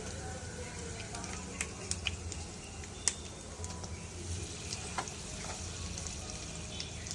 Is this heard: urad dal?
yes